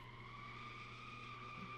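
A race car's tires squeal in a steady, high skid as the car spins during a test session, a sustained tonal screech over a low engine hum, fairly faint and distant.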